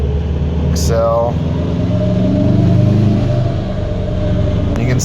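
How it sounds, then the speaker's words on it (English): A newly built engine on a dyno during break-in revs up and down under light load, a loud continuous droning rumble that rises and falls, with a voice talking over it. "we're going to go up and down in the RPM with a little bit of load"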